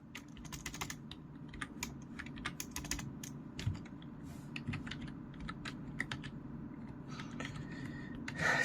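Quiet typing of a terminal command on a computer keyboard, soft close key clicks in an irregular stream over a low room hum, with no talk.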